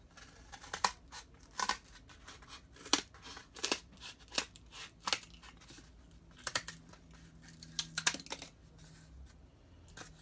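Scissors snip through material while building a DIY smartphone speaker amplifier, giving a series of sharp, close, irregular cuts with quiet pauses between them and no talk.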